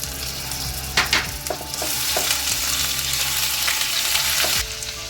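Garlic paste sizzles in a hot pan for a giant prawn rezala, a steady close frying hiss broken by a few sharp spoon knocks and stirs, with no talking.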